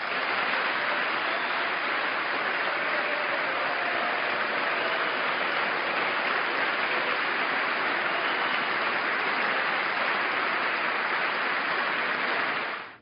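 Sustained applause fills a chamber during a State of the Union address, a dense steady wash of clapping from a large audience that holds evenly throughout with no voices standing out.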